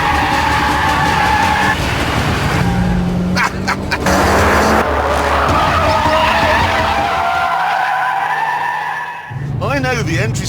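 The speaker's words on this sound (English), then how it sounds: "the engine in this FQ360 model is such a tower of power, it can keep all 4 wheels spinning endlessly" Mitsubishi Lancer Evolution FQ360 tyres skidding and spinning as it is driven hard through a corner, loud and continuous with engine roar, alongside other car noise.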